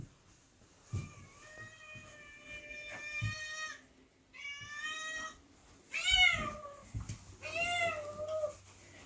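A cat meows several times, a few drawn-out calls separated by short pauses, close and fairly loud, with light background noise.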